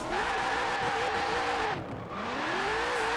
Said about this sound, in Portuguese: A gente já vai, já pega pra direita e já vai drifando